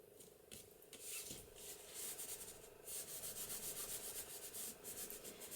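A folded paper bag seam being burnished down by hand while making a craft journal bag: soft, quiet, repeated rubbing and scraping strokes in an uneven rhythm, close up, with no talking.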